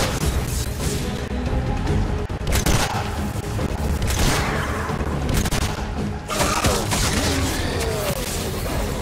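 Sniper fire and booming shots ring out in a Fortnite match, loud and continuous, with repeated sharp bursts over a steady rumble of battle noise and no clear speech.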